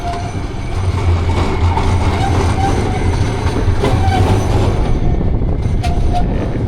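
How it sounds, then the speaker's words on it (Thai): An electric train rolls past close by in the Netherlands with a continuous loud rumble, faint rail clatter and occasional thin high squeals from the wheels. "รถไฟก็อยู่กลางเนาะ รถไฟฟ้าเนี่ย"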